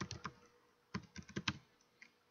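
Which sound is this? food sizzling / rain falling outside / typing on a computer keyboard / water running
typing on a computer keyboard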